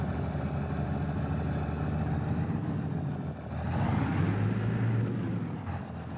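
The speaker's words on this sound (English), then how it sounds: "probably not good for a diesel engine, just start and stop like that" An old diesel truck engine at an abandoned acreage idles steadily with a low rumble, then shifts and stops abruptly near the end, loud and close with no talking.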